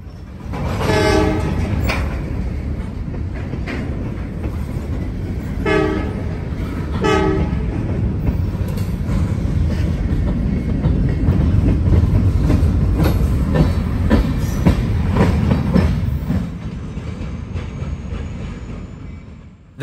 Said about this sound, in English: chasing its only local G07 with 3469 and SD40-2 running long hood forward today